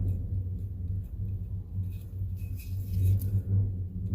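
A restored 1968 Ford truck idling in the background, a low steady engine rumble with slight rattling that swells a little toward the end, heard from a distance without speech.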